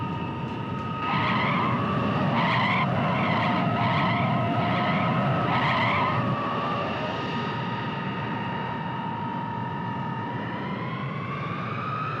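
An airliner brakes hard on landing in a film scene, a sustained loud screech with pulsing tones for several seconds that then fades into a steady high whine, with no talk.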